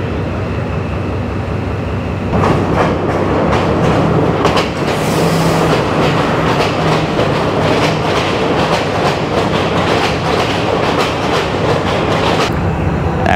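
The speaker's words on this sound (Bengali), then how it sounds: "এখান দিয়ে এদিকে একটা ট্রেন আসবে" A train rolls along the platform at Nanu Oya, a hill station in Sri Lanka, with a loud, steady rumble and rhythmic clickety-clack of wheels over rail joints close by that continues throughout.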